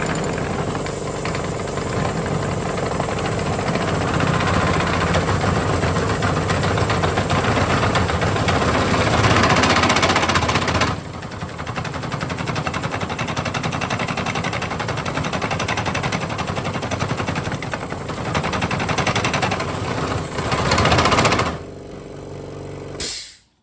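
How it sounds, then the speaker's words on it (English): Fantic motorcycle parts rattle inside a workshop shaker machine, a loud, dense mechanical clatter that runs continuously for over twenty seconds, dips briefly midway, then stops abruptly at the end. "I put them into this shaker gadget I've got"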